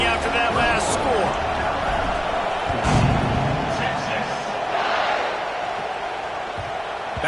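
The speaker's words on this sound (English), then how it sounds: "this crowd is buzzing after that last score" Football stadium crowd at a Texas vs Alabama scrimmage game buzzing after a score, a steady loud roar of many voices with occasional whoops swelling around the middle, under a commentator's talk.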